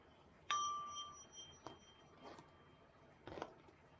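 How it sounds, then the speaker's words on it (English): A meditation bell struck once, a clear ringing tone with a bright attack that decays over about a second, followed by faint soft knocks and rustles in a quiet room. "I'm going to ring the bell just to start us into our practice period."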